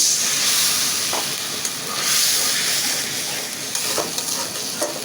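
A loud burst of hissing sizzle as water hits a hot pan of shrimp curry, settling into steady bubbling with a few scraping stirs.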